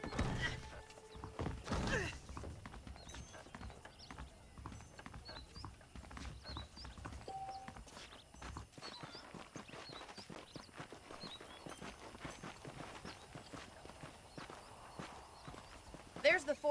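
Steady clip-clop of horse hooves walking at an even pace in the video game Red Dead Redemption, with a brief snort and ambient outdoor sounds in the background.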